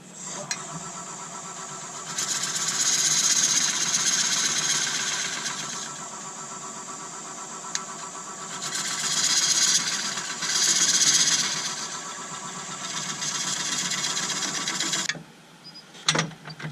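A woodturning lathe cutting a tenon on a wooden bowl blank, giving a sustained whirring scrape that swells and eases in passes of several seconds, then stops abruptly near the end; no speech.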